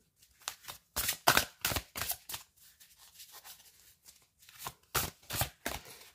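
Tarot cards shuffled by hand at close range, a series of quick soft riffling and slapping bursts with short pauses between them, no talking.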